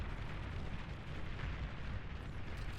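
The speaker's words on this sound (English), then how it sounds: "these tigers will just chain the windmills and cause lots of beautiful booms" Dense, continuous rumbling barrage of explosions from a Beyond All Reason real-time strategy battle, as tanks crush a base and a row of windmills blows up in a chain, loud and steady throughout with no talking.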